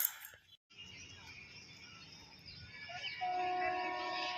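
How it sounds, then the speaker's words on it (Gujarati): A train approaching from Jetalsar Junction rumbles closer with a steady broadband roar, and a sustained horn tone sounds near the end, loud and continuous. "ટ્રેન આવી દેખાતી છે જો"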